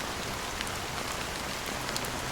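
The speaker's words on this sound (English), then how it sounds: "Em meio à fina garoa preta" Fine, steady rain falls in the video game Honkai: Star Rail, a dense even hiss of drops on surfaces with faint scattered pattering, constant and close, with no talk.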